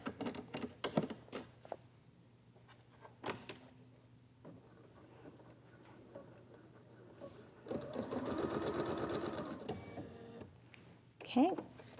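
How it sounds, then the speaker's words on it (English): An embroidery machine stitches placement lines in the hoop, first with a few sharp ticks and short runs, then with a rapid, steady mechanical stitching burst near the end, close and moderately loud. "we're going to bring the hoop back to the machine and stitch placement lines"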